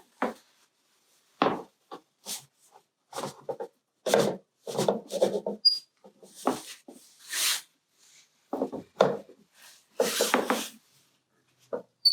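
Clamps on a wood lamination glue-up for a multi-part mold are loosened and re-tightened, producing close, irregular bursts of wooden rubbing and scraping with short silent gaps between them.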